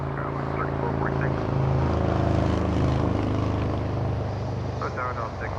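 An airliner taking off from runway 25 right at Los Angeles International Airport gives a steady, broad jet roar that holds level throughout, with voices talking over it.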